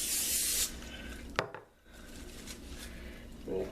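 Cooking spray hisses briefly from a can into a dessert glass in a kitchen, a short close spritz followed by quiet rustling and light handling sounds.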